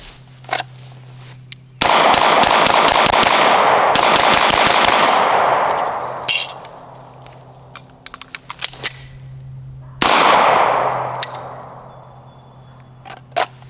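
Rapid strings of loud, close Beretta 92X pistol gunshots fired in two long bursts with a few scattered single shots between them, outdoors and with no talking.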